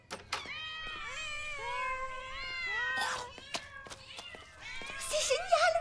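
Several cats meow in a veterinary laboratory in an animated series, a string of close, overlapping, rising and falling meows with sharp clicks between them and a louder, shriller burst near the end.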